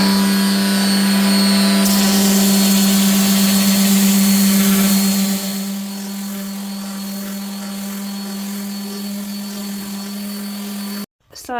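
A power sander with a coarse 40 grit disc grinds across cured Apex deep cast epoxy resin, a loud steady whine with a strong low hum that shifts partway and then stops abruptly near the end.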